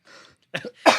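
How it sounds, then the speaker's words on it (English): A person sneezes close by, a couple of quick, stifled bursts ending in a sharp, louder sneeze. "It was like sneezes."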